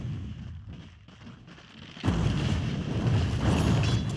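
Booming artillery-like game combat erupts in Dota 2 as Dire's bottom tower comes under attack, a dense rumbling barrage that swells loudly after a quieter start and continues without speech.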